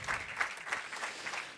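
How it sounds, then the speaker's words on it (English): Applause from a conference audience at a table tennis for health congress, a steady wash of clapping hands that stays even through the short stretch, with no voices over it. "So big applause for Bulgaria."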